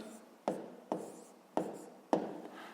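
A pen writes numbers on paper while working a fifth-grade decimal multiplication problem, giving four short, close scratching strokes, each one fading out before the next.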